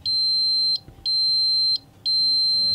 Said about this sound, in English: then the core sounds an alarm